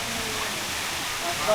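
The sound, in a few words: flowing rainwater stream in Valley of Flowers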